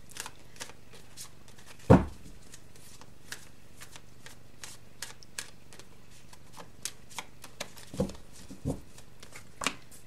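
Tarot cards shuffled and pulled from a deck, a quiet run of light riffling ticks with a few louder snaps and slaps as cards come free, close up and alone.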